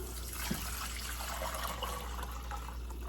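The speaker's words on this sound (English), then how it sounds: "We're gonna add the water right here." Water is poured into a soup pot for a Portuguese soup, a soft steady splashing fill with a light trickle, quiet and close, without talking.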